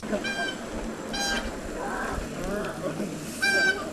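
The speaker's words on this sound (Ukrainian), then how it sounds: "это гусь он вот сейчас вот на видео меня позорит" A goose gives several loud, nasal honks in short bursts over outdoor background noise, with a voice speaking quietly in between.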